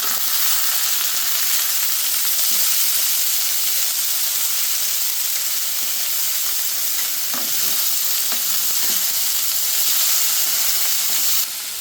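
Onions and boiled cluster beans frying in a pan for a South Indian poriyal, a loud, steady sizzle with a few stirring scrapes.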